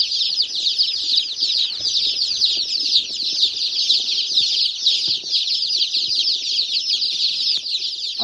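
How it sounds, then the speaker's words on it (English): A dense, constant chorus of many chicks in a brooder peeping shrilly all at once, close by and unbroken. "I'm sure the mic's picking up all the chick sound"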